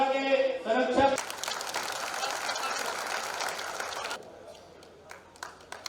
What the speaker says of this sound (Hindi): एक बार आप सभी का जोरदार तालियों के साथ स्वागत करें